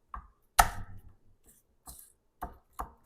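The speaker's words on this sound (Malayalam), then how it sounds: "ഈ വെളുത്തുള്ളി ഒന്ന് ക്രഷ് ചെയ്യണം അല്ലേ? ജസ്റ്റ് ഇങ്ങനെ കത്തി കൊണ്ട് ഇങ്ങനെ ചെയ്യുക." A kitchen knife strikes and crushes garlic cloves still in their skins on a board, about six sharp separate knocks spread over three seconds, close and clear with no talking.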